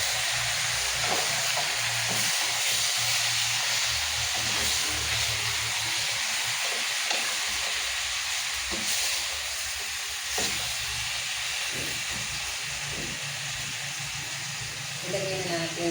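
Chicken curry sizzling steadily in a pan while being stirred, a constant loud frying hiss with scattered scraping clicks, a voice speaking over it.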